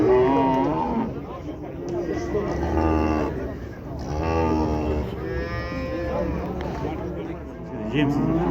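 Cattle low repeatedly at a busy livestock market in Kyzylorda, Kazakhstan, where a bull and cows are up for sale; long, loud moos overlap one another while people talk in the background.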